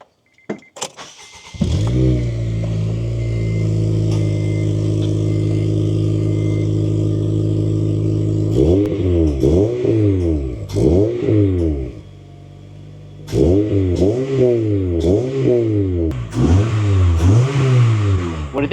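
A 2006 Acura RSX Type-S revs through a new exhaust, loud and close: a steady, deep idle, then repeated sharp throttle blips rising and falling in quick bursts, a short lull, then more rhythmic revving.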